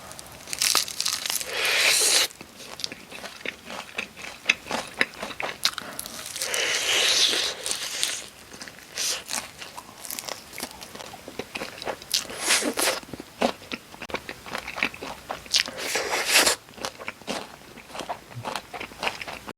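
Loud, close crunchy bites into fried chicken drumettes in a spicy sweet-salty glaze, with repeated crisp crackling bursts and wet chewing between them and no talking.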